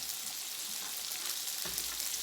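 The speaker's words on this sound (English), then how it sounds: "we're going to add our last tablespoon of butter in there. We're going to add our shallot that we've minced." Minced shallot fries in butter in a pan, a quiet, bright, steady sizzle heard close with no voices over it.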